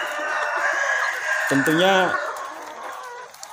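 A KUB chicken lets out a short crowing call of about half a second, fairly close, against a background of farmyard murmur, with someone speaking briefly in the clip.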